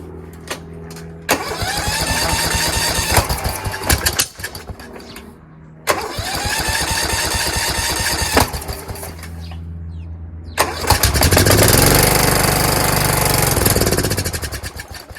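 A Kohler Courage small engine cranks repeatedly without starting, giving three long, loud starter-driven churning bursts separated by brief pauses.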